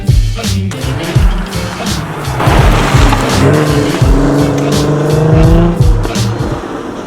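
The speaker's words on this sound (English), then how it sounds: "So this is my 3 litre V6 Jaguar" A 3-litre V6 Jaguar F-Type drives hard, its engine note loud and continuous with rising and falling revs, repeated bursts and rasping pops over several seconds.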